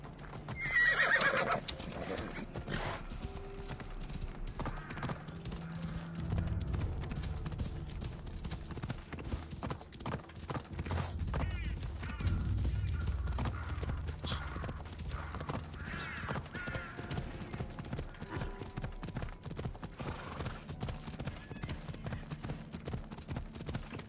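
A horse whinnies loudly in the video game Assassin's Creed Odyssey, then hooves pound in a steady galloping clip-clop over a dense, continuous background.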